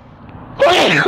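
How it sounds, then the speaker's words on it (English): A single loud sneeze bursts out near the end after a quiet lead-in, close and sharp. "I'm sorry for all the sneezing."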